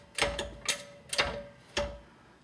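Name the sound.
floor jack raising a Ford Mustang rear control arm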